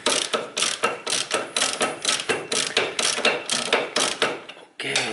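A bolt on a Nissan front brake is loosened with a ratchet, a close, fast string of clicks in regular strokes that keeps going for several seconds before a short pause and a final burst.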